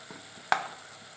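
Seasoned mushrooms land in a frying pan, giving a faint, low sizzle with one sharp, close clink partway through, and no talk.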